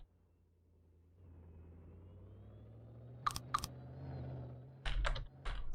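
Computer keyboard keys pressed to move things around in a game: a few quiet, isolated clicks, then a quick cluster of louder taps over a low, steady background hum.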